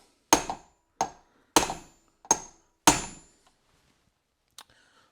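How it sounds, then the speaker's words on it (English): A hammer taps a bearing race into a Mercedes W126 front hub with five sharp, ringing metallic strikes at an uneven pace, close and clear, followed by a fainter knock. "we'll give the top of it a light tap. Make sure it's going in nice and square"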